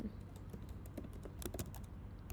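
Someone types on a computer keyboard, making soft, quick key clicks in an uneven stream that stays quiet and close.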